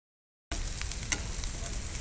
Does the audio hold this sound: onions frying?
yes